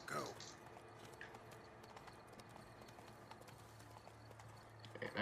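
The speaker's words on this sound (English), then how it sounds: "Somewhat smooth to ride the horse" Horse hooves clop rapidly in a steady galloping rhythm in The Witcher 3: Blood and Wine, mixed with game-like ambience and a faint voice in the background.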